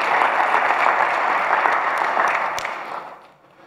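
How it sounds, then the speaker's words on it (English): Church congregation clapping hands during a Sunday worship service, a dense sustained burst of applause that fades out near the end. "give the Lord a hand clap"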